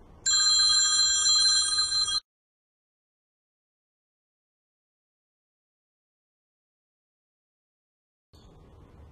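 A telephone rings loudly and close by in one burst of about two seconds, then cuts off into silence. Faint room noise comes back near the end.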